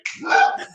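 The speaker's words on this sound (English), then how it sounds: "that's the dog" A dog gives a single short bark or yelp, close and fairly loud, lasting under a second.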